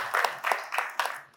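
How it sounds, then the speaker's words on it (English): An audience claps after a request at a tribute night. Four or five brief bursts come close together, like a short patter of clapping from a small group, with no voices over it. "But clap for him, please."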